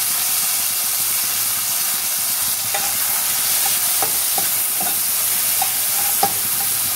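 Tomatoes fry in oil with salt, a loud, close, continuous hiss and sizzle with a few light clinks from stirring scattered throughout.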